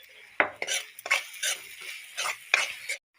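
Spice masala frying in a pan with a little water splashed in for a jackfruit sabji, bursts of hissing sizzle broken by metal spoon scrapes against the pan, then abrupt silence.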